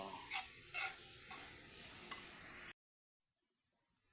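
Sautéed bamboo shoots (ginisang labong) stirred in a pan, with steady sizzling and a few rhythmic scrapes of the utensil, then a sudden cut to near silence.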